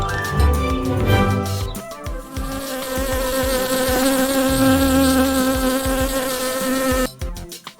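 A bee buzzes loudly and steadily for several seconds on its own, with a brief break near the start and a trailing-off at the end.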